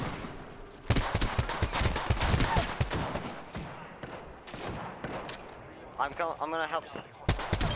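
Rapid bursts of gunfire in Apex Legends crackle through the first half, mixed with game effects and a player's voice talking over the action.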